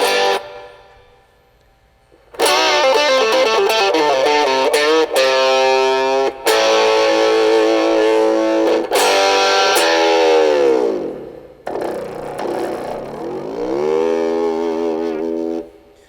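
Electric guitar, a Strat, played through a Joyo JA-05G mini amp with moderate distortion and reverb: loud sustained chords and ringing notes with bends, pausing briefly between phrases and ending on a wavering held note.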